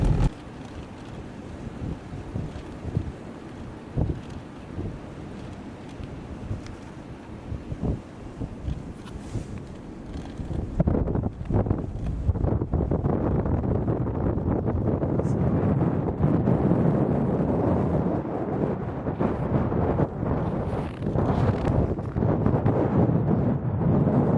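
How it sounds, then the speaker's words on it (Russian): Loud, steady wind on a mountaintop in Yakutia at about -40 degrees buffets the microphone, with heavy low rumbling gusts that grow stronger and more constant partway through. "Тут ветер такой"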